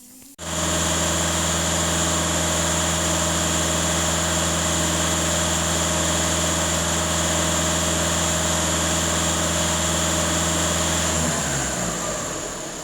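A VW Touran 1.6 TDI EA288 diesel engine idles steadily and evenly, a loud constant drone with a low rumble and even exhaust, before winding down near the end.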